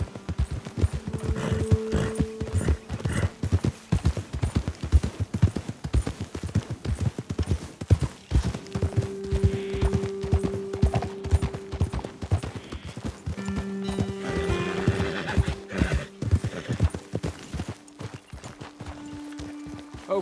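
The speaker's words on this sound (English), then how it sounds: "Best leave the horses back a bit." Horses clip-clopping at a steady walk in the Red Dead Redemption 2 video game, close, dense hoofbeats running throughout with low ambient tones underneath.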